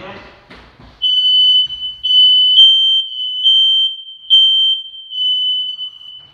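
A newly installed smoke alarm shrieks in a piercing, sustained high tone during a test, pulsing in repeated loud bursts close by after a moment of quiet shuffling.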